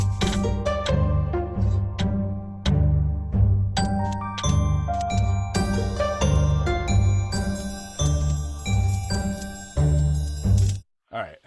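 Bright glockenspiel and bell tones ring out in a melodic pattern over a bass line in recorded music playback, struck notes chiming with sustained shimmer before the music cuts off.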